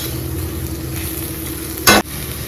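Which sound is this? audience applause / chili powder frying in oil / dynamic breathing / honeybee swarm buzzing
chili powder frying in oil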